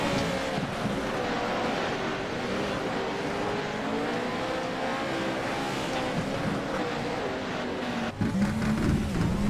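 Onboard a Pro2 off-road race truck, Eddie Kerner's, at Wild West Motorsports Park: a loud, steady engine roar with road and wind rumble runs throughout, dipping briefly near the end before surging again.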